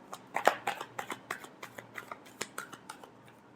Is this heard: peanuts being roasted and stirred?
no